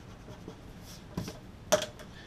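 Marker or pen strokes on a board during a math lesson, a few quiet scratches and a sharper tap against a faint room background.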